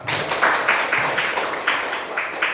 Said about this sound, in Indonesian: Tepuk tangan buat Mbak Siva.